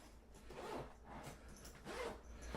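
A zipper on a Case Logic SLRC 206 DSLR camera and laptop backpack is pulled open in close, scratchy strokes, with a couple of distinct zipping pulls over a couple of seconds.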